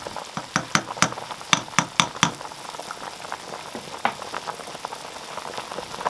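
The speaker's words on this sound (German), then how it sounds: "reduziere auf mittlere Hitze und jetzt lassen wir das Ganze 2 Stunden lang kochen" Pork knuckle stock simmering in a pot over medium heat, with a steady bubbling hiss and a run of sharp, irregular pops and plops from bursting bubbles, loudest early on and then settling into a softer boil.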